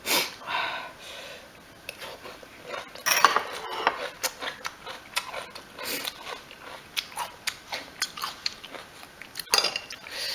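Cutlery clinks against a plate in irregular taps while someone eats a fried and stir-fried eggplant dish, with soft chewing between the close, scattered knocks.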